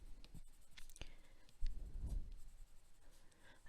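A colouring pencil shading a light, even coat across paper, a soft, close scratchy rubbing that comes in short repeated strokes and is quiet overall.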